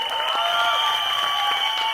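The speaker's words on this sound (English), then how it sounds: "Big round of applause, ladies and gentlemen." Audience applause fills a Mumbai song launch event, a steady sustained wash of clapping under strong tonal stage hum or music, with no gaps across the moment.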